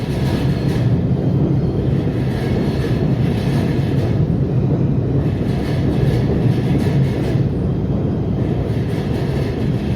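A Kawasaki-built PATH subway train rolls through a tight tunnel with a loud, continuous rumble and rattle, rhythmic wheel clatter pulsing over the steady roar, close and sustained for the whole stretch.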